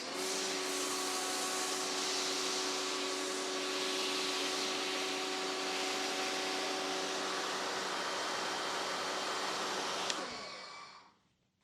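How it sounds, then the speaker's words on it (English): A TDS Foam Cannon Pro V2 fitted with its smallest blue orifice sprays foam in a continuous loud, hissing rush with a steady tonal hum for about ten seconds before sputtering out and fading. "this thing is going to need to be able to run for 1 minute and 15 seconds, spraying good foam."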